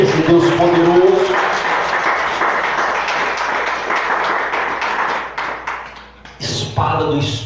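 Church congregation applauding during a worship service, a dense, sustained wash of clapping over several seconds that tapers off, with voices briefly heard at the start and end.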